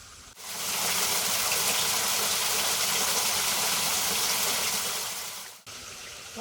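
Paddy Falls waterfall rushes in a steady, loud, broadband roar that swells in, holds evenly for several seconds and then drops away abruptly, with no voices.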